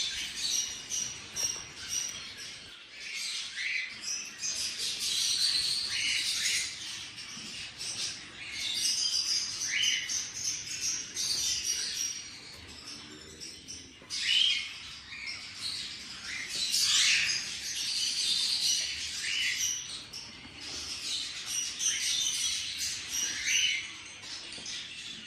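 Several yellow-headed Amazon parrots chatter, squawk and whistle continuously in an aviary, their calls overlapping at moderate distance with no talking.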